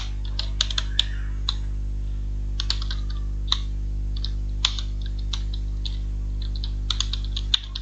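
Sparse keystrokes on a computer keyboard tap out a short line of code, scattered clicks in small bursts over a loud constant low electrical hum.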